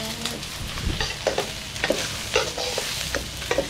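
Pork frying in margarine with garlic and onion gives a steady, close hiss of sizzling, punctuated by repeated scraping stirs of a spatula against the pan, with no voices.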